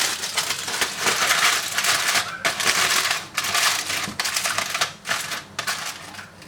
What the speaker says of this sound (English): I'm going to cover it with some foil paper